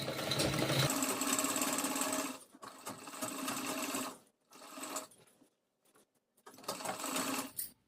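A sewing machine runs close and loud, stitching the neckline of an anarkali dress's fused lining fabric in several bursts of rapid, steady whirring, the longest first, separated by brief pauses as the work is repositioned.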